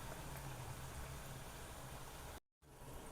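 Betel leaf fritters (bhaji) frying in oil over a low gas flame give a faint, steady bubbling sizzle that cuts out briefly near the end.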